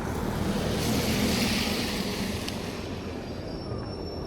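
A low rumbling rush of a tram passing nearby on a street in Gothenburg, Sweden, fading gradually, with a faint high squeal near the end.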